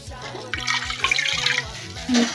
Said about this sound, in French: Dans un premier temps, nous allons renverser l'eau.